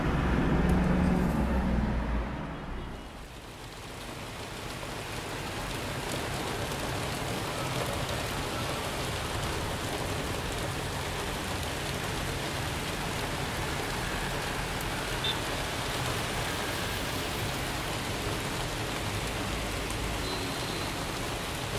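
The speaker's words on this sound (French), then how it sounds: "il commence à pleuvoir là. La mousson est arrivée." Monsoon rain pours steadily in India, a dense, constant hiss of drops on surfaces that stays loud and even throughout after a brief dip near the start.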